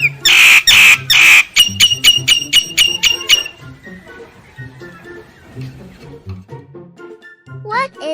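Wild starlings give a run of loud, rapid harsh calls, then a softer stretch of chattering, whistling notes and mixed bird sounds, ending on a rising whistle.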